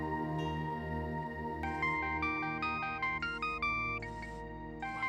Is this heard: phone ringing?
yes